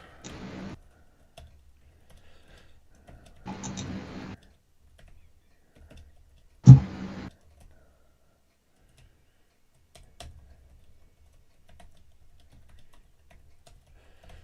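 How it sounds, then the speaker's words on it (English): Typing on a computer keyboard in a chat room, short bursts of soft key clicks separated by pauses, with one louder thump, quiet and close with near silence between bursts. "I'm going to type in the chat room"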